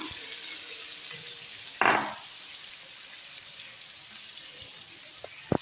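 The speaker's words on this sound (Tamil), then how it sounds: "நல்லா வதங்கட்டும் நான் நல்லா வதக்கிட்டு காட்டுறேன்" Grated coconut sautés in a pan with coriander and mint under a faint, steady sizzle and hiss, broken by one short scrape of a spoon and a couple of small taps.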